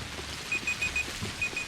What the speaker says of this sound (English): Yep, there's my timer going off.